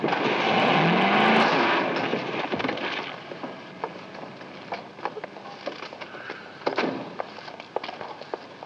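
A car is driven recklessly with its engine roaring loudly at first, then rattles and scrapes along amid scattered clattering impacts, in an old classic film soundtrack.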